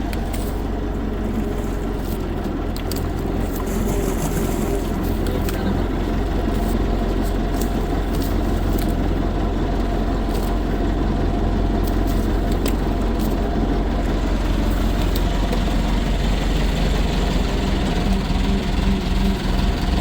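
A fishing boat's engine drones steadily and close by at sea while nets are cast, a constant low rumble with no voices over it.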